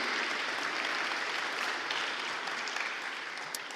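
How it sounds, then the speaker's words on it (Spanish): Church congregation applause during a Spanish-language service, dense, sustained clapping from a large crowd that stays steady throughout and only eases slightly near the end, with no voices over it. "quiero que se den un aplauso por ser una iglesia fiel"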